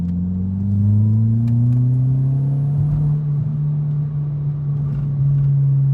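A Volkswagen MK4 with a 1.8T engine and custom cat-back exhaust burbles steadily as it pulls away, a deep low gurgling drone that rises gently in pitch and holds loud and close throughout.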